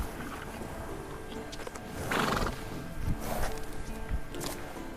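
A horse in The Witcher 3: Wild Hunt gives loud whinnies and snorts over clip-clopping hooves, with game ambience behind and no speech.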